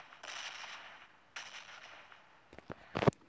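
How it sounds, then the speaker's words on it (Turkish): Red Zone bombardment explosions in PUBG Mobile Lite: a couple of soft whooshing blasts followed by a cluster of sharp, louder booms and cracks near the end, all fairly faint overall. "Arkadaşlar Red Zone hemen önünüze patladı."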